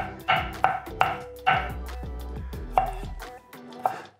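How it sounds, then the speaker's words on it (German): A knife chops a garlic clove on a cutting board, making close, crisp knocks in an uneven series of about eight strikes. "Und hacken das nochmal ein bisschen nach."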